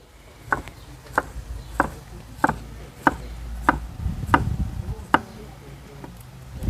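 Garlic is chopped into slices on a board with eight or nine sharp, evenly spaced knife strikes about two-thirds of a second apart, close and clear over a low background rumble.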